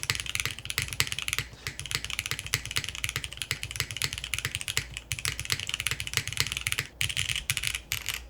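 Rapid, even typing on a Finn 60XT mechanical keyboard with a polycarbonate case, close and crisp keystrokes clattering continuously with no voices.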